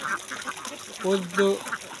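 Ducks grazing in an open field on snails let out several nasal quacks, a couple standing out louder near the end, while someone speaks over them.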